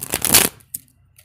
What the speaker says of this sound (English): Why am I not able to shuffle?